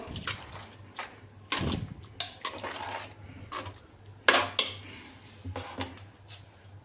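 A spoon scrapes and clinks against a metal pot while stirring rock sugar and sugar into basmati rice payasam, giving irregular knocks and scrapes at close range with no voices.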